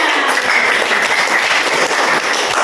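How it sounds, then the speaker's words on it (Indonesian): A group claps together after a Monopoly game at a teacher coaching session, a loud, dense, continuous burst of hand claps close by. "Oke, tepuk tangan."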